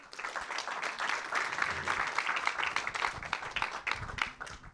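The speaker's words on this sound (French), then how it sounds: "on peut les applaudir" An audience applauds the speakers after a business conference talk about corporate data: continuous, fairly dense clapping from many people with crisp individual hand strikes throughout, moderately distant.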